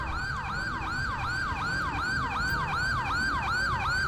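Ambulance siren from the police game GTA V LSPDFR, a loud steady wailing yelp that sweeps up and down in fast repeating cycles with engine rumble beneath, no voices.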